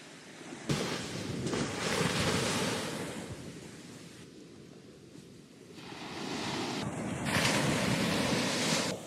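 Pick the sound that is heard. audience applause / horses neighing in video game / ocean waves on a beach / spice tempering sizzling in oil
ocean waves on a beach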